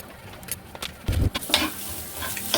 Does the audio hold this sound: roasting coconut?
yes